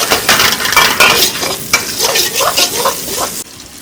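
Garlic, chili and onion frying in hot oil on a hot griddle outdoors, a steady close sizzle with scraping stirs running throughout, loud and continuous, cutting off sharply near the end.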